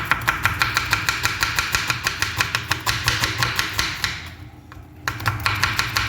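A knife slices onions thinly on a board for mutton biryani, with rapid, evenly spaced chopping strikes, loud and close. A short pause comes near the end before the chopping resumes.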